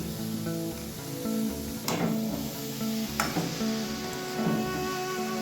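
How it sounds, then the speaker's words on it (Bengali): Boiled cabbage stir-fried with spices in a pan gives a steady close sizzle, broken by two sharp scraping stirs against the pan over a continuous tonal hum. No one talks. "এবার সবটাকে একসাথে খুব ভালোভাবে কষিয়ে নেব।"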